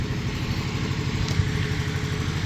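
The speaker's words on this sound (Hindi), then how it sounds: "क्योंकि जनरेटर चल रहा है यहाँ" A generator runs steadily at a dairy farm, giving a continuous low, throbbing engine drone with a rapid regular pulse that stays loud and even throughout.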